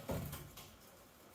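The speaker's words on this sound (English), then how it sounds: "Wait, I'll open the door." A quiet door of a converted school bus opens with a brief low thud and soft scraping creak, faint and close in a hushed room.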